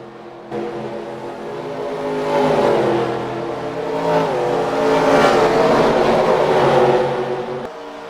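Race car engines roar in a Piston Cup racing video game at the Palm Mile Speedway, a sustained loud whine that swells and shifts pitch as cars accelerate and pass, then cuts off abruptly.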